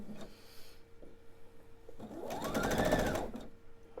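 Sewing machine stitching quilt diamond pieces for a table topper, short bursts of motor hum and rapid needle clatter close by, the longest run rising in pitch then stopping.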